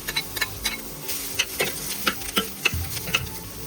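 Chopped onion, ginger, garlic and cut vegetables frying together in a pan, a dense close sizzle with rhythmic spatula scrapes and taps every fraction of a second.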